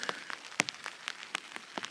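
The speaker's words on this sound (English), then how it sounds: "It just keeps raining." Rain patters on a tent or gear while backpacking the Lofty Lake Loop in the Uinta Mountains at 10,800 feet, scattered close drops ticking irregularly, light rather than pouring, with no talk.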